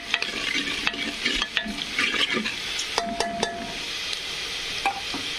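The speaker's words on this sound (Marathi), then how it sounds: "तर मस्तपैकी कांदा पण आता फ्राय झालेला आहे" Sliced onion fries in a pan for chickpea ghugri, with a steady soft sizzle under repeated clinks and scrapes of a spoon stirring against the pan.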